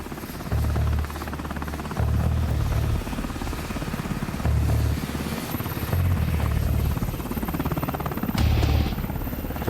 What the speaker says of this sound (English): the approaching helicopters aren't heard by the kidnappers